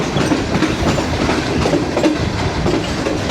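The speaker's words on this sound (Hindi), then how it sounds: "और 34 down park business express approach कर रही है ड्रेग रोड जंक्शन पे।" The Pak Business Express passenger train arriving at Drigh Road Junction, heard loud and close with a continuous rumble and rhythmic clickety-clack of wheels over rail joints and a faint squeal, with no voices.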